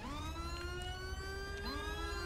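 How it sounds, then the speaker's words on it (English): A police siren in the GTA 5 video game wails continuously with rising and falling sweeps, fairly close, over a low engine rumble and traffic noise. "whoever siren that is, like, bruh, come on, turn it off"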